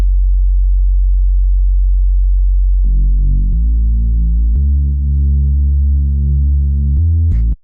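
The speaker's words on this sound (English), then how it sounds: "it's got a little bit of FM from the second sine wave here" Sub bass from an Ableton Operator patch in a liquid drum and bass track, a sine wave lightly frequency-modulated by a second sine, holding long low notes that shift pitch several times with growing harmonic buzz, loud and solo.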